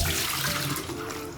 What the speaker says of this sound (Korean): 물에 불려놨던 인조고기에 물기를 짜도록 하겠습니다